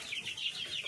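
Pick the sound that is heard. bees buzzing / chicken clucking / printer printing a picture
chicken clucking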